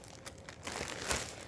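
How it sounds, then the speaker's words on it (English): A plastic bag holding yarn skeins crinkles up close, giving a steady rustling crackle that swells midway with a sharper crunch near the end. "I don't want to take them out of the plastic bag, so you're going to have to forgive me for the glare and the crinkle."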